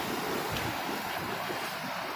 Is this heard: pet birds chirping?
no